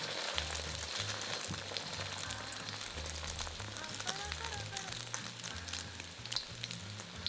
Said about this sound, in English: Turn to medium-low heat, and we're going to transfer in a little egg mixture in the wok.